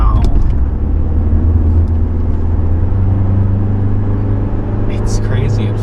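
A 1988 Honda Accord LXi four-cylinder engine hums steadily from inside the car while driving, a low even drone with a voice talking over it.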